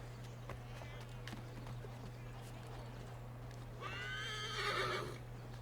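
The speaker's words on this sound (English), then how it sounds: "God, Connor, that's a freaking horse." A horse in Assassin's Creed III whinnies loudly near the end, a shaky descending neigh rising over a steady low hum and faint background noise.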